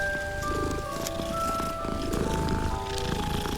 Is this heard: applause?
no